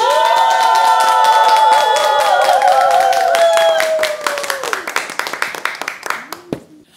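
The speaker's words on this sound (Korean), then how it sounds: "박수로 맞이해 주세요" An audience on a TV singing-class show claps to welcome a trot and traditional Korean music singer to the stage, crisp steady clapping under a sustained tonal voice or music that fades, then thinning claps.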